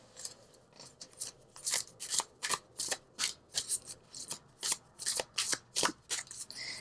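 Angel cards shuffled for a tarot reading, a rapid run of crisp riffling bursts repeating steadily about twice a second, close and alone with no talking.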